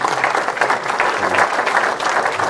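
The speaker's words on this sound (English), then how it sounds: "I'll ask for a welcoming applause for Peter" Welcoming applause from a conference audience greeting a keynote speaker on big data and health IT, a thick continuous patter of many clapping hands, loud and steady throughout.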